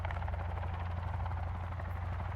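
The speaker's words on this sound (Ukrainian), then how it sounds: "Цей гелікоптер нещасний." Steady, close helicopter rotor thrum with a buzzing drone, flying in the survival video game Sons of the Forest, heard alone with no talking.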